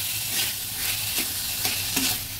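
Small fish and chopped potatoes are stirred and mixed in a hot pan, a steady sizzle under repeated scraping strokes of the spoon, close and continuous.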